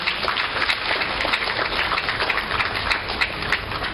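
Crowd applause at the opening ceremony of a trade fair, a dense, steady patter of many hands clapping at once, fairly loud and sustained throughout with no speech.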